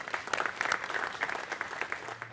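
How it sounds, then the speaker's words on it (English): Applause from an audience at a lure fishing seminar held in a store, brisk steady clapping close by for the whole stretch with no voices over it. "So I'll give you guys get a round of applause"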